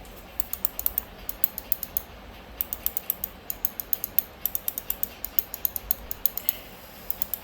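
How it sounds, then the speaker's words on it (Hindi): A wireless mouse with a fault that makes its left and right buttons click differently, pressed over and over in quick, uneven bursts of sharp, close clicks with no talking. "इसका राइट और लेफ्ट क्लिक का जो साउंड है ये डिफरेंट है।"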